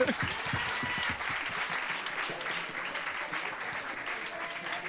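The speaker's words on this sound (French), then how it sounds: "On l'applaudit s'il vous plaît." A crowd applauds steadily, dense clapping that starts strong and gradually softens, with a few voices mixed in.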